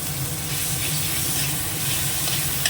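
Green chilli paste hits half-fried onions in hot oil, giving a steady, close sizzling hiss that stays even and continuous throughout, with no talking.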